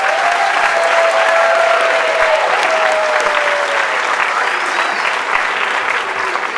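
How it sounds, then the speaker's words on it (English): An audience claps loudly and steadily after a kindergarten musical at a school. The dense, continuous applause carries a faint high whistle early on and runs through the whole clip. "Let's give them another round of applause."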